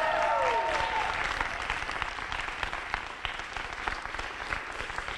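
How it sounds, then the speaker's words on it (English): An audience of young voters at a campaign event cheers and applauds, with a loud whoop at the start fading into sustained, dense clapping. "One more cheer if you're going to vote on Election Day"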